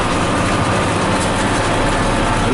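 A New Holland 8160 tractor engine drones loud and unbroken while baling in a field, its heavy low rumble filling the cab with steady broadband noise and no speech.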